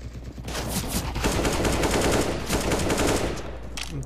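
Rapid automatic gunfire during a CS:GO deathmatch, a dense continuous burst of shots roaring for several seconds before tapering near the end.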